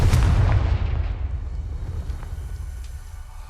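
Fiery Confringo spell blast in Hogwarts Legacy: one heavy booming explosion hits at the start, then rumbles and fades over a few seconds, with low roaring tail and no voices.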